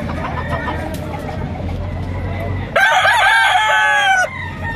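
A loud rooster crows once, close by, a drawn-out wavering call after a few seconds of low background murmur.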